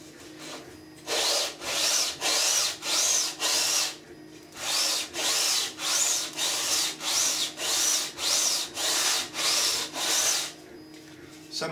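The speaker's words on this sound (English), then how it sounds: "when you start you hear a real raspy sound, and as it's smoothed out you hear a more" Hand sanding along the edge of a 3D-printed ABS mould part, a raspy scratching stroke repeated in quick, steady rhythm, close and fairly loud, with brief pauses between runs of strokes.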